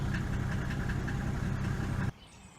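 A Mercedes W124 E300D estate's old diesel engine idles near running temperature, a steady close rattling clatter with a regular knocking pulse that cuts off abruptly near the end, leaving quiet background.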